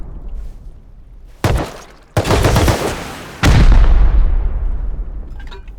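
Gunfire and rocket blasts in the video game Rust: a sharp burst of shots, a second loud broadband blast, then a heavy explosion with a long decaying rumble, close and loud with no speech.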